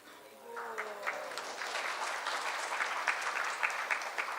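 Audience clapping rises and fills the room during a morning Srimad Bhagavatam lecture class, a steady moderate patter of many hands lasting a few seconds after a brief spoken line.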